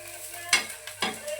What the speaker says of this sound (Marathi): कांदा चांगला लालसर होईपर्यंत भाजून घ्यायचा